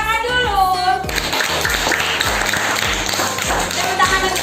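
Children clap together in a classroom, a burst of many hands tapping in uneven rhythm after a brief stretch of voices, close and fairly loud throughout.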